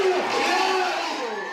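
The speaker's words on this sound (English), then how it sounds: "the crowd went wild" Crowd cheering at a roller derby bout as a very close game ends, a loud sustained roar of many voices with higher shouts rising through it, steady throughout.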